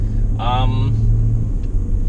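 A 2003 BMW 520i E39 sedan drives along a back road near Ulu Yam, Malaysia, with a steady low engine and road rumble heard from inside, and a brief voice sounds near the start.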